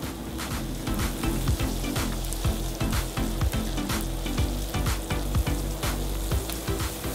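Curry paste sizzles steadily in hot oil for a spicy baby lobster curry, with a dense continuous crackle and the repeated scrape and knock of stirring close by.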